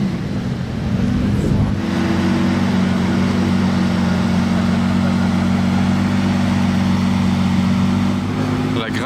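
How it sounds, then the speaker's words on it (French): A Lamborghini Reventon Roadster engine idling in Monaco: a loud, close, steady low rumble that settles in after a short opening and holds evenly to the end. "il y a une Reventon Roadster posée avec le moteur qui tourne juste devant nous"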